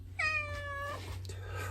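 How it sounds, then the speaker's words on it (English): A yellow cat gives a single clear, drawn-out meow close by over a steady low hum, then quiet. "Nancy's a yellow cat."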